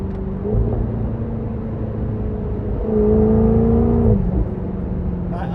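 A 2021 Jaguar F-Type R convertible's engine idles with a deep, steady rumble, then rises into a short rev that swells and falls back, close and unaccompanied by talk.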